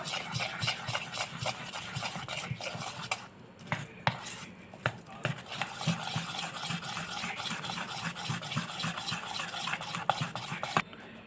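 Gram flour (besan) batter for nylon khaman is mixed in a bowl with a steady run of scraping, tapping stirring strokes against the sides, close and moderately loud, with no talking.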